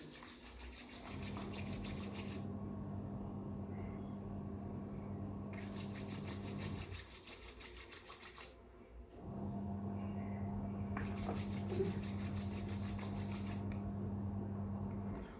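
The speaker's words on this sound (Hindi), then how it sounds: "फिर सिर्फ अपने दोनों हाथों को रब करना है" Two hands rubbing together briskly, giving a continuous close, dry friction hiss over a steady background hum, with a short pause partway through before the rubbing resumes.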